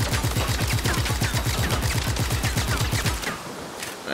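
Rapid automatic gunfire in Just Cause 3, a dense, steady burst of loud shots lasting about three seconds before cutting off into quieter game ambience.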